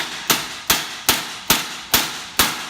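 A hammer striking a cracked weld on a 212cc mini bike frame, six sharp metallic blows at an even, roughly half-second rhythm, loud and close with ringing decay.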